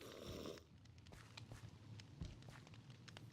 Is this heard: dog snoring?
yes